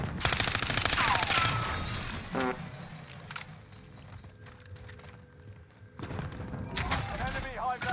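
Gunfire and impacts in a Call of Duty-style shooting game during a team match round, loud and busy at the start and end, mixed with game announcer voice and in-game effects.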